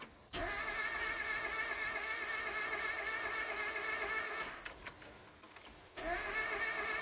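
A car engine with a suspected cracked head gasket is cranked repeatedly by the starter without catching, a steady whirring crank that pauses briefly near the end and then resumes, close and fairly loud, with no speech.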